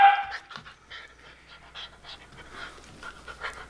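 A dog pants in quick, steady breaths close by, with a faint whimper at the start and no talking over it.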